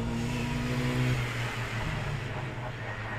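A Renault Clio Renaultsport race car with a sequential gearbox revs loudly from inside the cabin, its engine note holding a steady pitch before dropping and settling into a rougher, lower drone.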